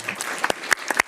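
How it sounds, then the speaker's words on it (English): Scattered hand claps from a small audience in a conference room at a veterinary medicines information day, a brief burst of separate, moderately loud claps. "much clapping in the room, which hopefully you could hear a little bit"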